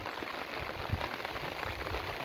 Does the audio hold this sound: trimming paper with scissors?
no